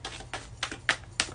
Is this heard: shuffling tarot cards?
yes